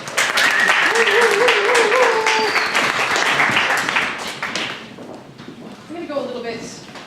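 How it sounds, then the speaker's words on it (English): Audience applause at a live spoken-word event, a dense burst of clapping that swells for several seconds and then thins out, with voices and a few whoops mixed in. "Round of applause."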